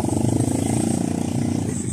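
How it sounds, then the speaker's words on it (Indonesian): Motorcycles idle and pass at the crowded entrance of the Paotere fish auction market in Makassar, a close, steady engine putter with a throbbing rhythm over busy market background noise. "Banyak sekali motor ini sapo."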